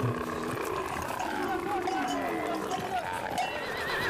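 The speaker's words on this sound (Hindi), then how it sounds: "मैंने ऊँट को ऐसे चिल्लाते हुए नहीं देखा कभी।" Camels cry out loudly in a continuous groaning, bellowing chorus that fills the scene, mixed with other animal noise and voices in a dramatized setting.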